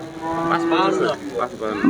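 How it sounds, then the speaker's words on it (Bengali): A Friesian cow at a cattle market moos loudly and close by in one drawn-out, wavering call lasting nearly two seconds. "একটা ফিজিয়াম জাতের আমরা গরু দেখছি"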